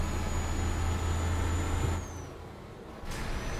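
A Mercedes Actros truck pulls hard in eighth gear while towing a dozer, a steady low engine drone with a faint high whine that drops off briefly before resuming, heard from inside the cab.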